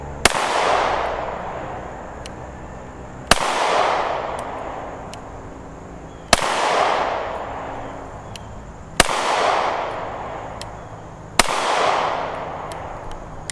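Five single pistol shots from a Smith & Wesson M&P Shield X fired at a 15-yard target, each a sharp loud crack followed by a ringing decay, spaced about three seconds apart.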